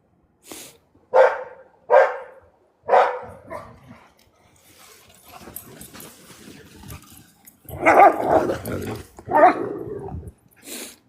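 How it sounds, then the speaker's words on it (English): Several dogs barking outside a house: sharp, loud barks in quick bursts with low growling and whimpering in between, close to the listener, the barking swelling again near the end. "I have to sit outside because these guys, if I go inside, they're going to bark"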